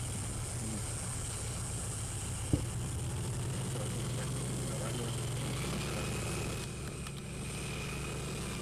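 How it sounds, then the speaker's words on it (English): A boat's steady low engine drone hums continuously at a distance, heard from the Mexican side of the border, with a faint mechanical rumble and one brief click partway through. "This is the noise that the boat makes."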